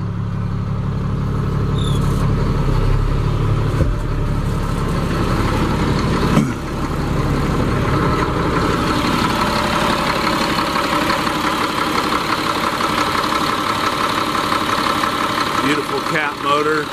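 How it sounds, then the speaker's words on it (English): A 2006 Peterbilt 335 truck with a Caterpillar engine idles close by, giving a steady loud diesel rumble with a faint clattering knock throughout, plus a brief thump partway. "Beautiful cat motor."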